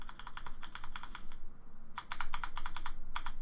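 Rapid bursts of loud computer-keyboard typing with clattering keystrokes, a short pause in the middle, then another fast run of clicks, close to the microphone and with no talking.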